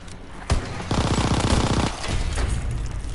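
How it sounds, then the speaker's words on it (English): Tommy gun fired in a zombie shooter game, a rapid burst of automatic fire lasting about a second, loud and close, followed by further shots and game noise. "Tommy gun right here."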